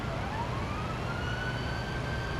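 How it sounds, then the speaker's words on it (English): A video-game ambulance siren wails steadily over a constant low engine rumble, with the tone slowly rising and holding, moderately loud and unbroken. "of course, I have to be the one to drive the ambulance."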